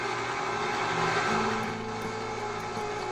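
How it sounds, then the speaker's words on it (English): An electric mixer whirs steadily on low speed in a kitchen, beating a chocolate cake mixture with powdered sugar, a close, constant motor hum with a tonal whine. "Turn the mixer onto low speed."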